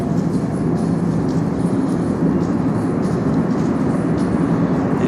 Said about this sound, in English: I believe my subway is already arriving.